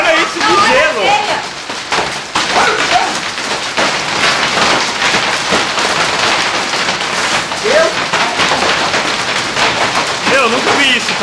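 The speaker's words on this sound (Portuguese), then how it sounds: "Ó, isso é uma chuvinha de granizo!" Hail falls during a storm in Brazil in a dense, crackling patter of ice hitting surfaces, loud and continuous, while excited voices talk over it.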